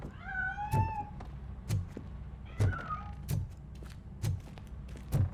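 A cat meows in the video game Robocop: Rogue City, two or three rising, tonal meows early on, mixed with a series of soft, regular thuds or footsteps throughout, fairly quiet and without speech.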